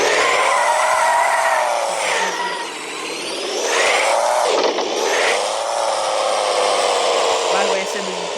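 The Ford F-250 truck in the Offroad Outlaws video game rolls off a trailer, its engine whining and revving steadily, rising and dipping in pitch with brief surges, loud and close.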